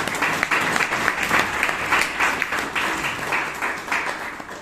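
A Toastmasters meeting audience gives a hearty round of applause, with dense, loud clapping sustained throughout and small swells in intensity.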